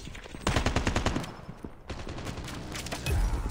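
Sentry gun in the video game Call of Duty Mobile firing rapid automatic bursts, dense rattling fire that breaks briefly, then resumes with heavier booms near the end.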